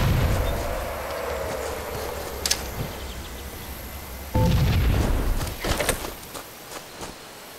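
In Halo CE sniper capture-the-flag multiplayer, a grenade blast booms loudly midway through, with sharp gunshot cracks before it and a ragged series of shots trailing after.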